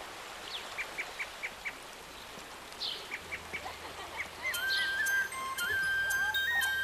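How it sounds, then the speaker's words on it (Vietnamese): A babbling stream runs steadily along a remote forest path while short bird chirps repeat in quick bursts; later a tinkling, tonal chime-like sound rises over the flowing water. "Chỉ nghe tiếng suối róc rách và tiếng chim hót."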